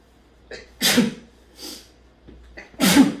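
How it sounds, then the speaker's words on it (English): Several sharp, breathy sneezes close to the microphone, with quick inhales and pauses between bursts and no talking. "I have to sneeze."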